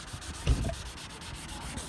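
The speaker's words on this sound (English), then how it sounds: "I'm just gonna continue sanding like this, just going over these cracks, taking that ridge out" Hand sanding over cracked RV exterior graphics, a soft rhythmic scratchy rubbing with one firmer stroke near the start, close up and quiet, with no talking.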